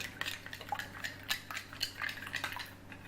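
Cutlery whisks omelette eggs in a bowl, giving a quiet, close run of rhythmic metal-on-bowl clinks and taps with faint liquid sloshing. No voices are heard.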